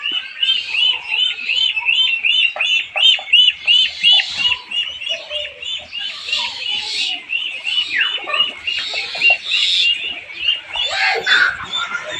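A flock of domestic ducks quacks nonstop at close range, with dense, overlapping calls that keep a busy, steady chatter going throughout.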